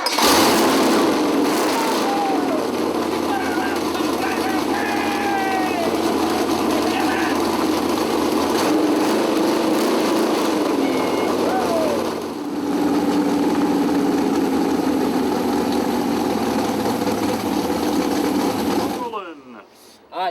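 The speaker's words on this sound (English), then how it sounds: "we can actually fire this motor up right here and now" Racing engine with a suspected slight carburetor problem fired up and held running, a loud, steady, buzzing high-revving drone lasting about nineteen seconds with a brief dip near the middle before cutting off, with people talking faintly underneath.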